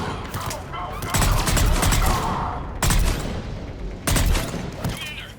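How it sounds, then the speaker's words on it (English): Heavy gunfire and booming mortar blasts from a Mass Effect 3 battle against Cerberus forces, loud and dense, with sustained bursts broken by short lulls and several sharp impacts. "Commander, we're getting a lot of mortar fire."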